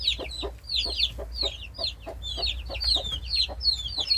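A Gold Brahma mother hen gives repeated soft clucks while herding her chicks, overlaid by a steady stream of high chick peeps, close by, with no talk.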